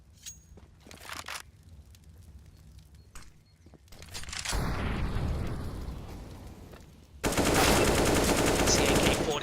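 AK-47 gunfire in a CS:GO match: a few sharp shots early, then loud sustained bursts of fire and action noise, ending in a dense, loud volley.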